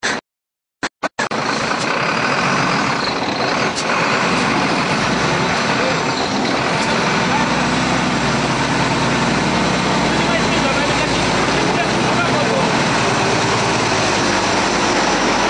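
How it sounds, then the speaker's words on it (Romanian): Heavy trucks climbing a snowy, salted road in winter, a continuous loud engine rumble and drivetrain drone close by after a brief silent start, with a voice speaking over the traffic noise. "Într-un final, tirurile au reușit să urce"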